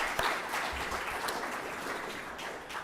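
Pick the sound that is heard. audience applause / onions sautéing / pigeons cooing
audience applause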